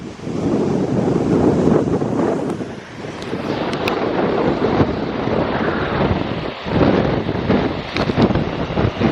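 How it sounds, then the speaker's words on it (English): Strong wind gusts buffet the microphone in a mountain gorge, a loud, continuous roaring rush that swells and eases, with no voices. "The wind's getting up, it's catching me a bit"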